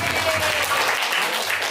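Classroom applause for Pak Darto during a session on applying a positive school culture, a dense, loud wash of clapping from the group that continues evenly throughout.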